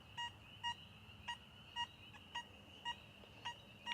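Tone from an XP Deus II metal detector sounding over a silver Mercury dime about 10 inches down: a steady pattern of short, clear, high beeps, eight in about four seconds, over a faint background hiss.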